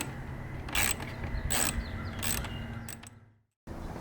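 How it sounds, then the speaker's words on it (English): A ratchet with a 10mm socket backing out grille mounting bolts on a sixth-generation Ford Bronco Raptor, producing several close bursts of fast clicking separated by pauses, then a brief silence. "The next step is to remove the grill mounting bolts with your 10mm."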